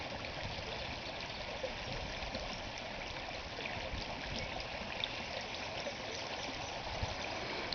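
A small stream spills over a low dam in trout water, giving a steady, even rush of flowing water that stays constant throughout, with no voices.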